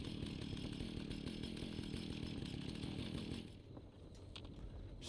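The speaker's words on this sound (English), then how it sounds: "When you have the chainsaw actually whipped out." A chainsaw in a Fallout video game buzzes steadily at close range, revving rough and continuous for about three seconds before dropping off into a quieter idle with faint clicks.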